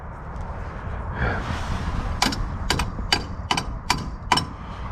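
Hammer blows on an old 1959 GMC dump truck, six sharp metallic strikes in an uneven rhythm over a steady outdoor rumble, close by and fairly loud, with a brief voice before them.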